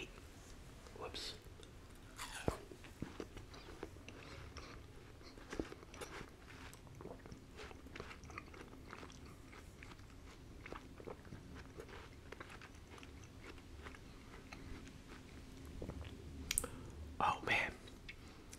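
Close, quiet chewing of juicy watermelon, with soft wet crunches and slurps in an irregular rhythm through a low, steady background, a few sharper bites near the end.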